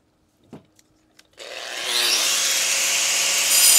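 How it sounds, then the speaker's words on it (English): An angle grinder cuts mortar joints in a brick wall: a few light knocks, then the tool spins up and grinds steadily with a rising, harsh whine that holds loud to the end. "Watch the grinder so you don't hit the brick above and below."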